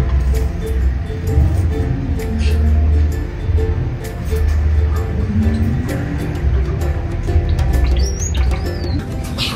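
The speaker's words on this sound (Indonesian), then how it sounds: "ada burung gelatik belong saya yang sudah hampir setahun ini" A caged Java sparrow in a backyard aviary gives faint, scattered chirps over a steady low hum and background noise, with some talking nearby.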